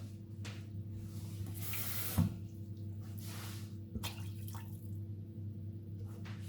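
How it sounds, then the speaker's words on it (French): Water poured into a pot of brown veal stock, a close splashing pour over a low steady background hum, with a couple of sharper knocks and brief bursts of flow. "Et ensuite, on va venir ajouter notre eau au bouillon."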